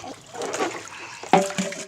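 A child splashes and scoops water at close range in a few short, wet bursts, with quiet talk and outdoor background around them.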